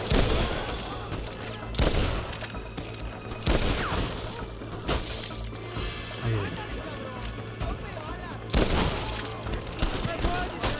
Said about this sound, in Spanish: La balacera, toma balacera.